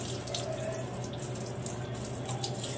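Weak, steady stream of water running from a bidet sprayer, a continuous hiss and splash held close and at constant level with no voices.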